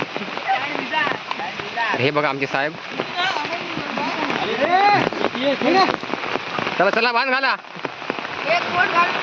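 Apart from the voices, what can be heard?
heavy rain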